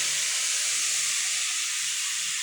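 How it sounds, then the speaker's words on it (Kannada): Milk poured into a pan of frying grated carrots sets off a loud, steady hiss and sizzle, close and continuous with no talking. "ಹಾಲು ಹಾಕ್ತಾಯಿದ್ದೀನಿ."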